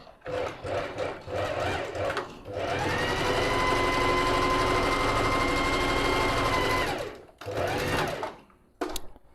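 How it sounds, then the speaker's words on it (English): A sewing machine stitches a stretch zigzag, whirring loudly and steadily in one long run of about four seconds, with short bursts of stitching before and after and a voice speaking in the pauses. "I'm going to show you what a beautiful stretch stitch zigzag looks like."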